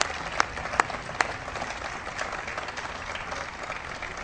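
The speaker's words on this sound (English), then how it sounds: "Please give them a big round of applause." A crowd at President Obama's signing of a youth tobacco bill applauds in a steady wash of clapping, moderately loud and sustained, with a few sharper claps standing out early.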